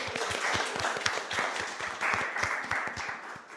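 A quick round of applause for a volcano awareness month organizer rises from the audience, a sustained burst of many hands clapping with individual claps distinct throughout.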